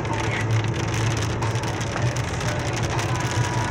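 Steady heavy rain from a lightning storm pattering on a vehicle while driving, loud and close, with a low engine hum underneath.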